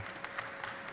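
An audience breaks into steady, dense applause during a live talk, right after a propane flame demonstration driven by a 550 hertz tone. The clapping fills the space evenly, without voices on top.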